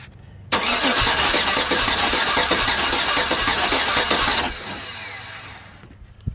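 A Chevrolet Silverado 5.3 V8 with a collapsed lifter is cranked via its starter relay: a sudden loud burst of churning starter and engine noise for about four seconds, then a quieter fading run-down, with no talking.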